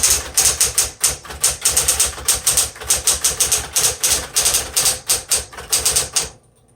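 Fast, steady typing on a 1960s Smith Corona Coronet Electric 12 electric typewriter: a close, dense string of sharp key strikes under the machine's motor hum, ending abruptly into silence.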